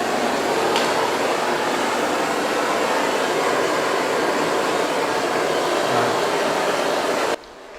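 Steady roaring hiss of a torch heating a steel CNC machine base before welding, continuous and close, cutting off abruptly near the end.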